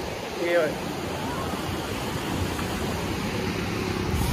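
Sea waves washing in at Diveagar beach on the Konkan coast, a steady broadband surf roar with wind buffeting the microphone and a brief louder thump near the start.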